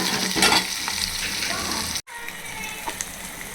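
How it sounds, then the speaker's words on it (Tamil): Chopped onion sizzles loudly in hot oil as a tempering while being stirred, a dense close frying crackle that briefly cuts out for a moment before resuming. "ஆனியன் போட்டு தாளிப்போம்."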